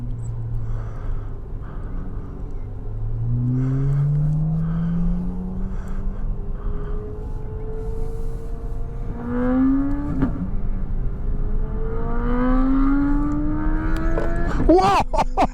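A Chevrolet Corvette C8 Z06 accelerates hard on a track, engine pitch climbing through several gears with quick shifts, the loud close roar heard from inside the car.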